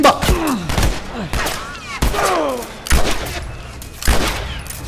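Gunfire in The Last of Us Remastered, several sharp shots at roughly one-second intervals, loud and close, each followed by a brief ringing tail and echoing whine, with faint groans between them.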